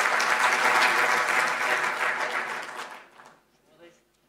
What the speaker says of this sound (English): can we just have another big round of applause for Mr. Didier Deschamps and Fabrice.